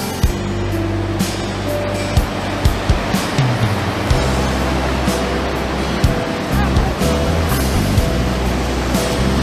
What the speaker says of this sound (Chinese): 我感觉这个浪挺大的